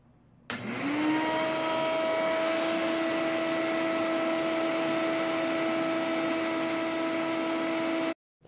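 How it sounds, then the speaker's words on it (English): A shop vacuum starts up abruptly, sucking up ABS plastic shavings, runs with a steady loud whine and roar for several seconds, then cuts off. "Let's see if I vacuum it, see what happens."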